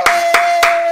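A steady run of four crisp hand claps, evenly spaced and fairly loud, with a faint constant tone humming underneath during a livestream.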